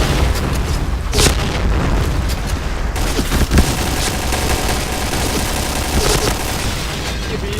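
In a shooting video game, grenade blasts and bursts of gunfire boom and rattle continuously, with heavy explosions landing over dense, loud battle noise.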